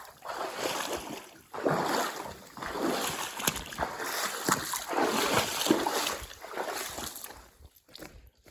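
Feet splash and slosh steadily through icy, ankle-deep water inside the Nehalem Divide Tunnel, a continuous loud wading sound with brief pauses between strides, echoing in the enclosed space.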